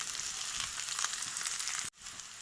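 Onions frying in a pan for a small-fish khar dish, a steady close sizzle and crackle with faint stirring, which cuts out abruptly near the end and then resumes more quietly.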